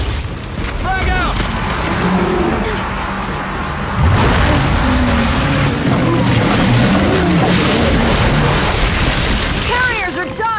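Busy Gears 5 city-defense firefight with a grenade blast going off amid continuous gunfire, mechanical clatter and shouted voices, the explosion thumping low and heavy in the middle of a dense, loud battle mix.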